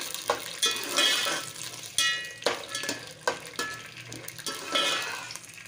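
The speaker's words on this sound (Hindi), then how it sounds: "मटरों को हम थोड़ा सा तेल के साथ फ्राई करेंगे।" Peas frying in oil for a pulao, with a crackling sizzle under repeated stirring strokes and clinks against the pot, rising and falling in short bursts, close up and without speech.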